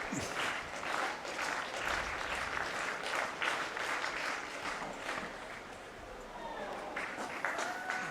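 A crowd at the Cooks Classic race meeting urges a runner on, clapping in a loose, pulsing rhythm that swells and eases steadily over several seconds.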